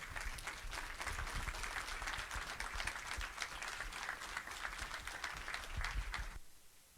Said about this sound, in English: ask you if you could please stand and give him applause